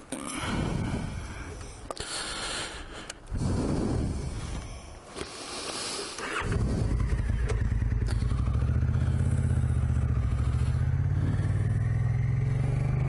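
Motorcycle engine on a 2019 desert ride: rough clattering and wind buffeting at first, then from about halfway a steady, loud engine drone that holds and climbs slightly in pitch.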